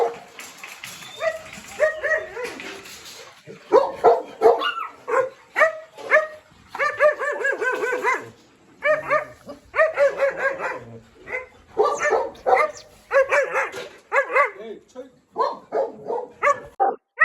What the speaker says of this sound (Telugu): అన్ని కూడా ఫ్రెండ్లీ డాగ్స్ ఇక్కడ ఉన్నాయి